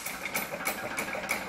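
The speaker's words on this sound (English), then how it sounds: "here's my little monitor engine" A small 1 1/4 horsepower Monitor flywheel stationary engine runs a pump jack, giving a steady rhythmic chuffing, about three beats per second, close by and alone.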